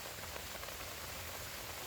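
Rain falls steadily outdoors during mushroom picking, a dense, even hiss of drops with no voices or other clear sounds.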